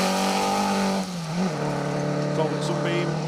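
A Talbot Sunbeam race car at Donington circuit sweeps past with a strained engine note that rises, dips and climbs again, under an announcer's voice.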